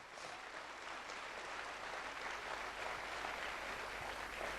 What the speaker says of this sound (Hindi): ताली बजा दीजिए आप।